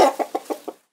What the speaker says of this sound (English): let's listen to the sound of a hen now